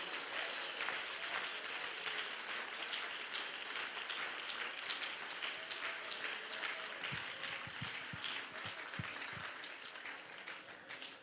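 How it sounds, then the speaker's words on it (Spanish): A church congregation applauding during a Spanish-language sermon, sustained dense clapping filling the room at a moderate distance, steady for several seconds and slowly tapering toward the end. "Dele ese aplauso al Señor, por favor."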